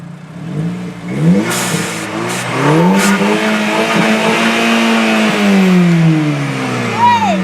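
A VW MKV GTI 2.0T fitted with an AWE cat-back exhaust accelerates through several rising gear pulls, its mellow engine note climbing and dropping between shifts, heard close and fairly loud with brief talk underneath.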